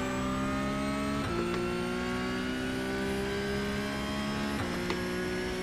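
A Porsche Cup race car engine in the iRacing simulator holds a steady, loud, high-pitched drone while accelerating, with two quick gear-change dips in pitch before it climbs again.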